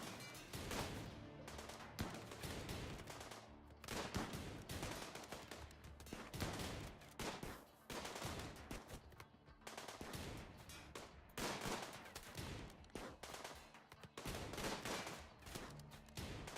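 Colonists shooting in Rimworld, repeated short bursts of gunfire in an uneven rhythm, close and fairly dense, continuing throughout without talk.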